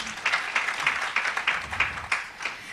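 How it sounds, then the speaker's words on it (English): Conference audience applause, a brief round of scattered clapping in a hall that rises and dips in irregular pulses, fairly close and moderately loud. "Another round of applause for her, please."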